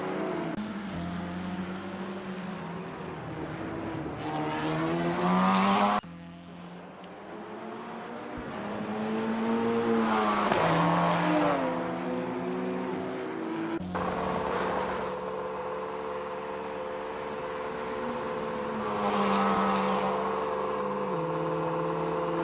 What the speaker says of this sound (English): from the Corolla, I love the anti-lag sound